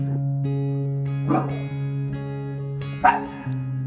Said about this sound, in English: Yep, dog fight for sure.